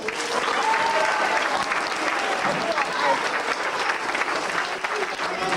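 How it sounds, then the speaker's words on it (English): A loud, steady round of audience applause for a Cub Scout team of Pack 127, Den 2, at a Double Dare game event, sustained evenly throughout with a faint crowd murmur beneath. "Let's give them a round of applause."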